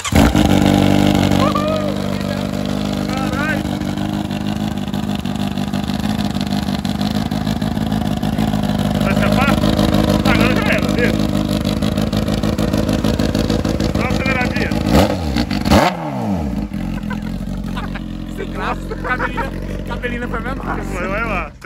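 A Honda Hornet motorcycle idles with a small balloon fitted over the exhaust, giving a steady close engine drone throughout with a brief rise near the end, while people talk over it.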